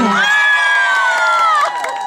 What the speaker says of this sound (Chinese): 掌声在哪里？